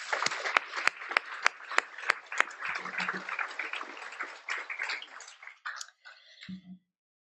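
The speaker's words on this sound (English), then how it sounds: "let's give her a round of applause" A small audience at a Girl Scouts Gold Award celebration gives a round of applause for a scholarship recipient: sharp, distinct claps in a quick rhythm, thinning and fading out as the clapping stops.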